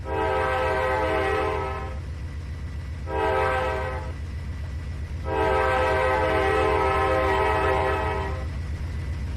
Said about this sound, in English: you're not supposed to stop blowing the whistle until you're halfway through the intersection